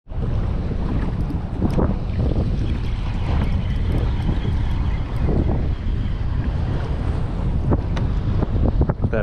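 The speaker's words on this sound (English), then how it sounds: "I'm getting just super splashed down from all these waves." Waves splash against a kayak while inshore fluke fishing on an outgoing tide, a continuous rushing wash with scattered sharper slaps, mixed with heavy wind buffeting the microphone.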